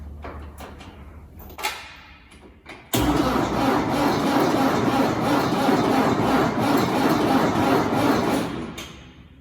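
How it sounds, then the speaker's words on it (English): Old Ford tractor engine on a cold start: a few sluggish cranking bursts, then the engine catches with a sudden loud, steady mechanical roar that runs near and continuous for several seconds before cutting off, with no talk. "Doesn't sound like it's cranking fast enough"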